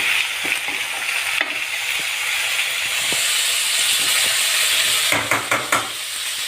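Chopped tomatoes stir-fry in a pan with a steady close sizzle and hiss, scraped and stirred intermittently, ending in a few louder clattering stirs, with no talking, while palak paneer is being cooked.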